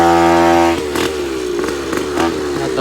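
Gas engine swapped into a Goped bladeZ-style scooter, ridden at a park: a steady high-pitched two-stroke buzz that drops after the first second, then rises and falls with throttle blips, loud and close, no talking.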